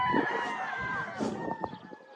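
On a gamefowl farm, a rooster gives a short, fairly close crow, a harmonic call with other fowl sounding faintly around it.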